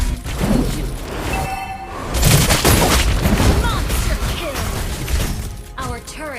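Turret destruction explosion in the Mobile Legends mobile battle game, a loud boom-heavy burst around the two-second mark amid dense game effects and announcer-style voice lines.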